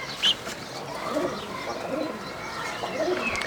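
Fancy tumbler pigeons coo in a loft, a soft low murmuring that runs steadily through the clip, with one brief sharper call near the start.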